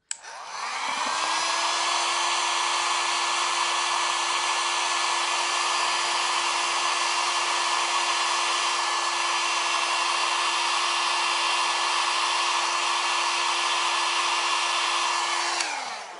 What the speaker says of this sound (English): Now I'm gonna blow dry them straight up, because that gives it just a little extra lift.